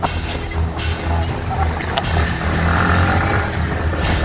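A motorboat engine drones steadily under rushing water and wind noise, loud and close throughout.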